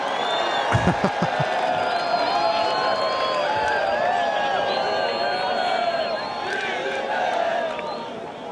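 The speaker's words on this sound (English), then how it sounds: "The chanting on the beach for Filipe Toledo here" A beach crowd at the Oi Rio Pro surf contest in Brazil chants and cheers for surfer Filipe Toledo, a loud, sustained roar of many voices with rising shouts and whoops, heavy thumps early on, and a commentator talking over it.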